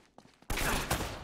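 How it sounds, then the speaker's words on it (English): Gunfire erupts suddenly in Uncharted: Drake's Fortune after a few faint taps, a loud, continuous volley of close shots. "They're shooting at you too, you know."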